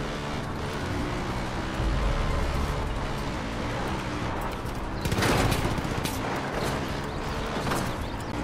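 Dense sustained gunfire in the Far Cry 5 video game, a loud continuous barrage of overlapping shots with heavier bursts partway through, with no talking.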